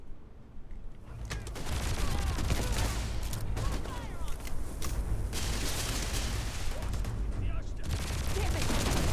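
Rapid, dense gunfire in the Starfield video game, with sustained bursts of automatic shots and booms filling the whole stretch, loud and continuous, with voices talking over the shooting.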